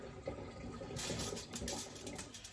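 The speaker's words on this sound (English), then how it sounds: "Wash the hands again" Tap water runs over hands being washed, a close, steady splashing stream that gets brighter and louder partway through as the hands move under the flow, with no talking.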